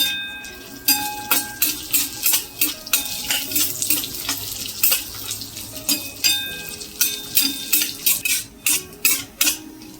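Dry fruits such as cashews are stirred and roasted in a little ghee in a pan, with a metal spoon scraping and clinking in a quick, irregular rhythm of sharp knocks over a soft, faint sizzle.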